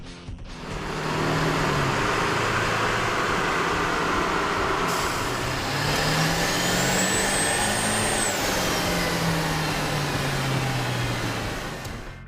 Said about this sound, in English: we ran the vehicle on the dyno to test the sound comparison versus the stock intake